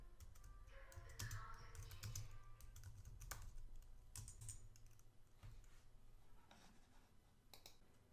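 Rapid keystrokes tap on a computer keyboard as Linux terminal commands are entered, a quick uneven patter of close, quiet clicks that pauses briefly and then resumes.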